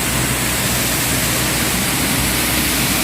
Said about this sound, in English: this is Mirror Lake Falls at Blanchard Springs Recreation Area.